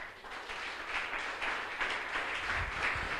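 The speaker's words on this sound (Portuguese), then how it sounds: "Quem quer aplaudir o Senhor?" A church congregation applauding during a sermon, a soft, even wash of clapping heard from a little distance that holds steady throughout.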